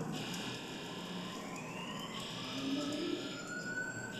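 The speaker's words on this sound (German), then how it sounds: "Notfall, Alarmcode." Emergency alarm in The Callisto Protocol video game during a prison lockdown, faint rising electronic siren tones sweeping upward over a dense background hum, sounding alone without talk.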